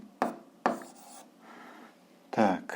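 Short scratchy bursts of writing on a board or paper during an eighth-grade algebra lesson, a few separate strokes with brief pauses between them, close and fairly quiet, with no talking.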